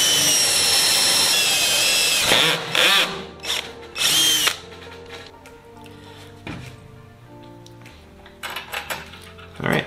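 A power drill bores through a metal plate held steady by a cleco during a Sonex aircraft build while the main spars are mated. A long, loud, whining run is followed by several short bursts, with quieter clinks and handling noises between them.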